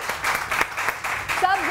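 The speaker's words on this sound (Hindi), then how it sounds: "सुंबल आपा के लिए जोरदार तालियां" A TV morning show studio audience claps for a female guest, a dense, steady patter of many hands heard close, with a brief voice rising near the end.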